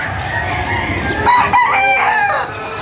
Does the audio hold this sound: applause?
no